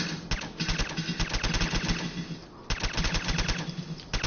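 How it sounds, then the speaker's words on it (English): A suppressed automatic Deliverer pistol fires in Fallout 4 in rapid bursts of muffled, clipped shots, close and loud, with a brief pause midway before the fire resumes. "So here's the suppressed automatic deliverer pistol."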